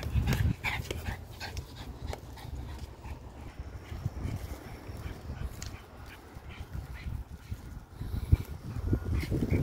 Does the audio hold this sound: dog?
yes